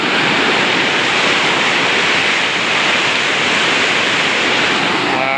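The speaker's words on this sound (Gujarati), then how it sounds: "ભાઈ શેત્રુંજી પાણી છૂટેલું છે જુઓ તમે." Water released from the Shetrunji dam gushes through the gates in a loud, unbroken roar. The dense rushing noise fills the whole stretch, with no voices.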